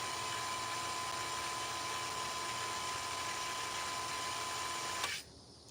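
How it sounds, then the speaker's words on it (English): Water pump for a farm storage tank running with a steady motor hum and whine, loud and continuous, then cutting off abruptly near the end, leaving quiet. "see it just kicked on? It's repressurizing the tank"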